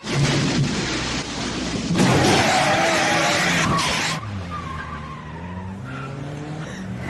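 A cartoon car speeds along with tires skidding and squealing in a Doraemon episode, a loud continuous rush of engine and tire noise that fills the whole stretch and eases slightly toward the end.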